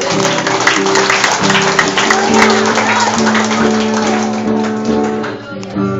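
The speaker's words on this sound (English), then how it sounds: "Can we all clap our hands to the Lord then?" A congregation at a revival convention clapping hands together, a steady loud patter of many claps with a sustained tone and voices underneath throughout.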